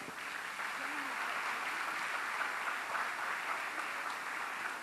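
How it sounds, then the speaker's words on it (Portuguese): Audience applause at a church youth vocation gathering, a dense, steady wash of clapping throughout, moderately loud and even, with faint voices mixed in. "Então vamos acolhê-lo com a salva de palmas."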